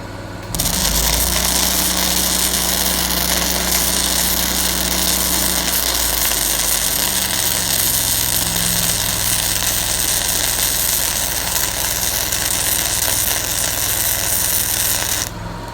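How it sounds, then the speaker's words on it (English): A Miller Trailblazer 325 EFI engine-driven welder runs loud and close, its engine drone dropping in pitch partway through as it settles from higher revs to a steady, vibrating idle. "it comes down to idle and you don't have to listen to the thing, you know, just revved out the entire time"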